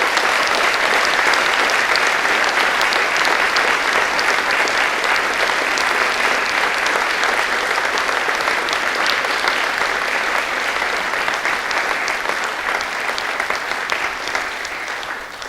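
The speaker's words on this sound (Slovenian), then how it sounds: "predlagam, da prav vsem še enkrat namenimo en topel aplavz hvaležnosti." A large audience in a sports hall gives award recipients a warm round of applause at a municipal ceremony, with dense, sustained clapping throughout that eases slightly toward the end.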